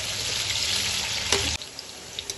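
Potatoes frying in hot oil for biryani, a steady broadband sizzle that carries close and loud before dropping to a quieter hiss partway through.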